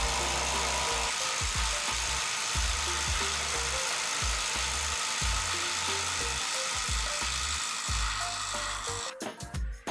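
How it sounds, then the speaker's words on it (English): A GISAM 1800Nm impact wrench tightens a nut at its highest speed, a loud continuous motor whine with rapid hammering pulses running for about ten seconds before cutting off. "let's tighten this nut at the highest speed for 10 seconds and try to loosen it"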